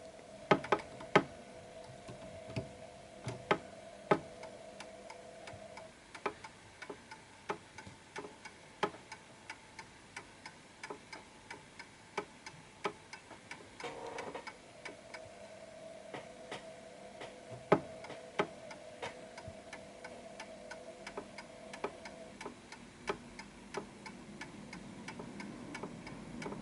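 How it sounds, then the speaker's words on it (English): Antique Westminster chime clock ticking steadily after an adjustment, a regular train of soft, close clicks with a faint tonal hum beneath, fairly quiet throughout. "that adjustment is necessary in order to make sure that the ticking happens consistently."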